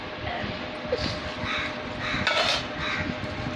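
Cauliflower pickle stirred and mixed in a metal pot, with scraping clatter and light clinks of utensil on the pot repeating close up over a steady kitchen background.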